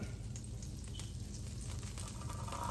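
Butter sizzles and fries steadily in a pan for grilled cheese bread, a constant close crackle with light stirring noises and no voices.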